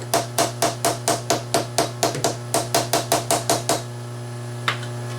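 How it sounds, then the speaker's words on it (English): Stock blocks are hammered down into a machinist's vise with about fifteen sharp, evenly spaced metallic taps over a steady machine hum, then one last lone tap. "hammer them down"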